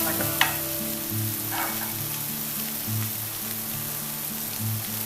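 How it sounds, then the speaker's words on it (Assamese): Ginger garlic paste frying and being stirred in a pan over lowered heat, a steady close sizzle with soft repeated scraping strokes from the stirring, no talk. "আদা নহৰু পেষ্টটো দি দিছোঁ লৰাই দিব"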